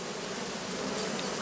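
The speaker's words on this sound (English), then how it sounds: "the crown board's actually being lifted up by all those bees" A large swarm of honey bees fills a hive beneath its lifted crown board, giving a dense, steady buzzing drone that stays close and even throughout, with no voices.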